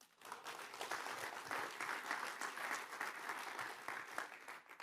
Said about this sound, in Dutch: Dus applaus even voor de meesten.